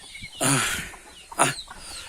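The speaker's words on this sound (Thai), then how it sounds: "ไก่แจ้มาอีกแล้วครับ" Bantam chickens on a farm give two loud, close clucking calls, one longer and one shorter, with quiet pauses around them.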